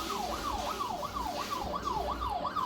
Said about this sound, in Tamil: போலீஸ் வண்டி சவுண்டு கேட்குது.